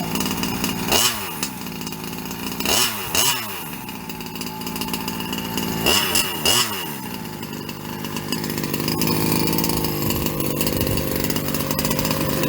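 A small 36cc two-stroke gas engine in an RC car runs nearby during break-in, revving up and down in several sharp bursts before settling into a steady high buzzing drone.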